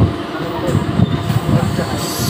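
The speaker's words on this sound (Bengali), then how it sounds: "দীঘা টু সাঁতরাগাছি এই ট্রেনটি এসে গেছে" A Digha to Santragachi train rumbles low and steady nearby as it pulls into the station, with a continuous mechanical drone and faint rattling.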